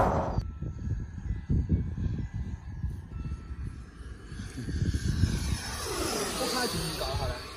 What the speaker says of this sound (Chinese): 你看飞机不停的在摇